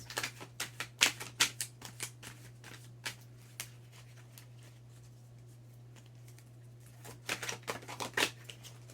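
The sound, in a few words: tarot cards being shuffled and drawn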